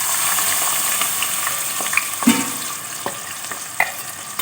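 A large chopped onion fries in half a cup of hot cooking oil for a dhaba-style white chana curry, giving a steady close sizzle broken by occasional spoon clicks and scrapes as it is stirred.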